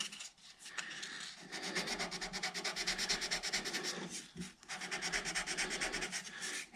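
Coarse sandpaper, around 180 grit, rubbed over the wooden headstock of a D-35 style acoustic guitar in quick, steady back-and-forth strokes, close and continuous apart from two brief pauses.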